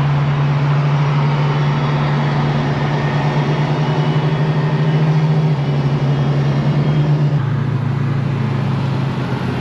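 Holden LX Torana with a 5.0-litre 308 V8 built as an A9X SLR tribute, idling with a steady, loud, low rumble that shifts pitch slightly a couple of times and continues without a break.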